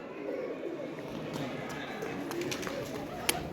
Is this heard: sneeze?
no